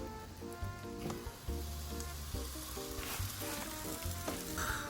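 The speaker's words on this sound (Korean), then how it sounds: "크루아상 빵을 인터넷으로 주문을 해서 와플 팬에 이렇게 구웠습니다" A butter croissant cooks in a waffle pan, giving a steady close sizzle with soft frying crackle and occasional clicks and knocks throughout.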